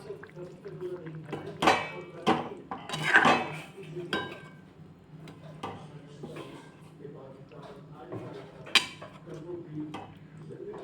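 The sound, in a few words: stirring and mixing ras muthiya in a pan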